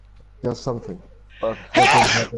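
A person sneezes once, loud and close, right after a few words of casual talk during an F1 2018 racing game session.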